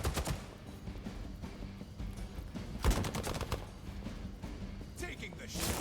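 Gunfire from the video game Marvel's Midnight Suns, a burst of shots and impacts near the middle, set among game music and effects with a voice talking over it.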